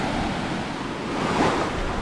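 Choppy sea off Bukabuka Island washes in a constant broadband hiss under gusty wind, with a slightly louder surge near the end of the short stretch.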